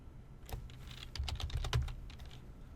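Rapid typing on a computer keyboard during a Java programming lesson, a run of quick, uneven key clicks at close range with no voices.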